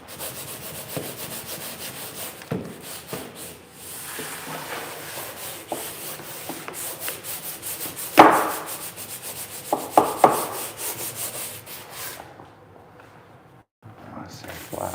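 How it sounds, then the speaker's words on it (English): Small spots on an indoor wall being sanded by hand, a steady scratchy rubbing that keeps going for several seconds, close to the listener, with a few louder strokes near the end and a voice talking over it at times. "sand all these little spots too"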